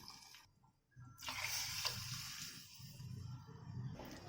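Water poured into a pot of soaked beans and rice for biryani, a steady close gushing stream after a brief pause, continuous and even with no talking.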